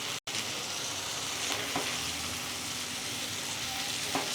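Yogurt and spice paste spits and sizzles in a pan for garlic chicken curry, a continuous close frying hiss with a few faint stirring knocks and a brief cut near the start.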